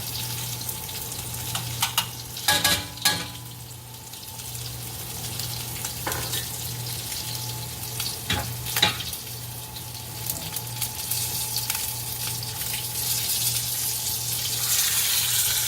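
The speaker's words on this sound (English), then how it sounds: "So as you see, I'm searing all sides." Short ribs searing in a pan with butter and garlic give a steady frying hiss throughout, with a few louder bursts of spattering and clatter, heard up close and without speech.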